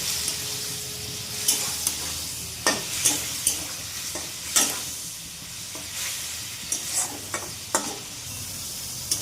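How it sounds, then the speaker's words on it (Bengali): Sting fish cooking in a pan gives a continuous low sizzle under a string of irregular sharp scrapes and clinks from a utensil stirring. It is close and moderately quiet, with no one speaking. "মাছগুলি দিয়ে দেব।"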